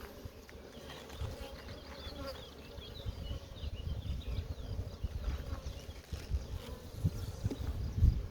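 A large honeybee colony buzzes steadily in an open hive dripping with nectar, a dense close hum layered over low handling rumbles and knocks, with no talking.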